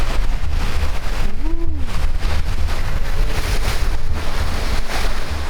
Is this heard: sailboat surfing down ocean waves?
yes